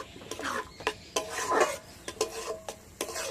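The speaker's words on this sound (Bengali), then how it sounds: "গাজরটাকে ঘিয়ের ছাঁচে খুব ভালো করে এইভাবে একটু নাড়াচাড়া করে নিয়েছি।" Raw carrot paste stirred in hot ghee in a pan, a close, rhythmic series of scraping and clinking strokes with a faint sizzle underneath, repeating about every half second.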